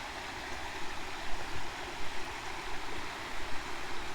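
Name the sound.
stream water flowing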